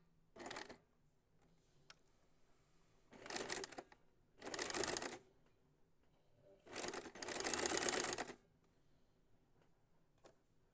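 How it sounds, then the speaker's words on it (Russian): A sewing machine fitted with a walking foot runs idle with no fabric or thread, giving four short mechanical bursts of whirring, the last one longest, separated by quiet pauses. "Хочу в холостую показать вам, как она работает, без ткани, без нитей, просто одно железо и пластик, как это выглядит в работе."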